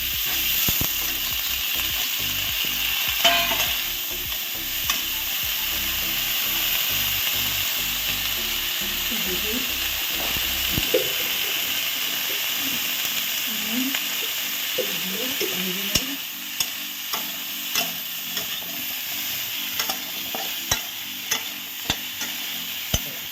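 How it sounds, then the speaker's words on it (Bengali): Cauliflower frying in hot oil in a pan after fish, a steady close sizzle with scraping and clinking of a stirring spoon throughout. "তারপরে একটু ফুলকপিটা ভেজে নেব।"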